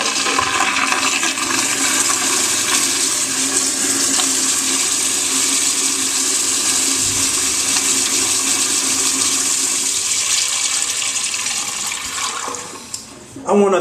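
Toilet flushing: a loud, close, steady rush of water lasting over twelve seconds, tapering off near the end with a few gurgles before a final clunk.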